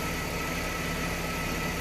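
Gearbox fluid flush machine pumping on a Jaguar X300 automatic transmission, a steady, dense mechanical hum and whir holding constant throughout, fairly close, with no talk.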